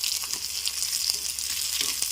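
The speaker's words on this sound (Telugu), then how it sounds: "చక్కగా వేగిపోతున్నాయి." Spices, including fenugreek seeds, fry in hot oil in a pan for vakkaya dal, making a steady bright crackling sizzle with faint stirring taps, up close, with no talking.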